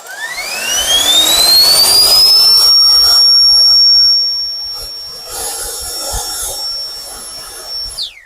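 A Procraft PB18 20V cordless leaf blower spins up with a rising whine into a loud, steady high-pitched rush of air, holds for a few seconds, then drops back to its quieter running note before winding down.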